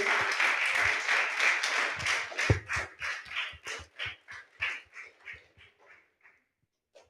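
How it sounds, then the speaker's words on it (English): Audience at a children's public speaking showcase clapping for the performances, a smattering of claps that thins into sparse, separate hand claps and fades out. "Give a round of applause for everyone for their performances today."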